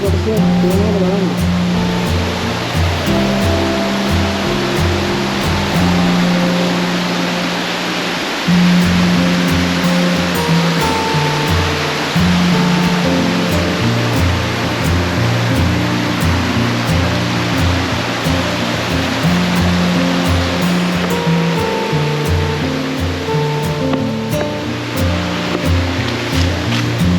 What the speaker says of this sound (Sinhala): සුන්දර අසුපිනිය කඩා හැලෙනවා